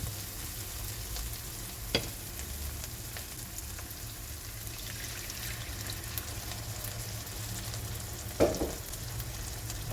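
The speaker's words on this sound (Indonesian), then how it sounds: "Ini bumbunya udah wangi dan sudah matang, baru kita bakalan tambahkan air serta bumbu-bumbu lainnya" Spice paste frying in a pan for potato sambal keeps up a steady, moderately loud sizzle, broken by two sharper splashy bursts as water hits the hot oil, with no one talking.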